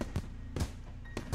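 Fireworks going off in the visual novel Katawa Shoujo: three separate booming bursts about half a second apart, each a sharp crack with a low thump and a short crackling tail, loud and close.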